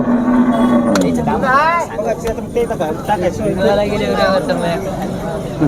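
Cows at a Sunday livestock market low in long, rising and falling moos close by, while men bargain over the animals in nearly constant talk around them.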